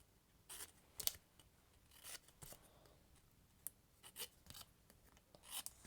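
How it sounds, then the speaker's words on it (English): Small metal snips make crisp, quiet snipping cuts into paper for a paper-craft pumpkin project, several sharp irregular clicks spaced across a few seconds, close up and otherwise silent. "I come in with my snips and I just cut a slit"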